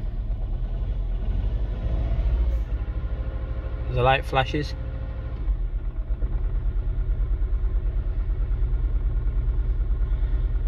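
Lumpy idle from the engine of a 2007 Mini One with a misfire, an uneven low rumble that runs steadily under a person talking, with a brief rev midway.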